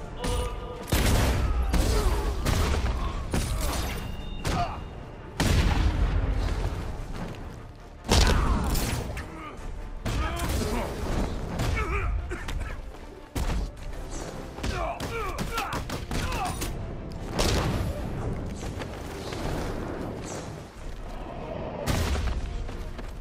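Loud, repeated explosive booms and heavy thuds in rapid bursts in the video game Batman: Arkham Knight, mixed with gunfire-like crackle and mechanical clanks, with voices talking over the din.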